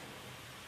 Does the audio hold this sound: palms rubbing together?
no